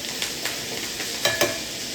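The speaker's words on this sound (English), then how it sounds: "Be careful when you do put it in, it's going to splatter a little bit, so you can see it popping" Chicken searing in a pan with butter and thyme, a steady sizzling hiss broken by several sharp splattering pops, close and moderately loud with no talk.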